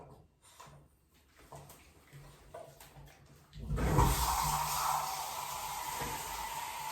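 A bathtub tap is turned on to wash a dog. A few soft knocks and shuffles come first, then water gushes in as a steady, fairly loud rush that holds to the end.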